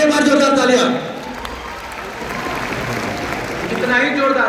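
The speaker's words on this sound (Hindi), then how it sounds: "तो सबके लिए एक बार जोरदार तालियां।" A class of students applauds loudly, dense close clapping that swells, dips slightly in the middle and rises again, blended with voices.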